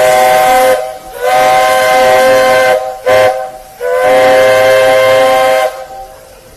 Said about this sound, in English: Yes, the train is loud.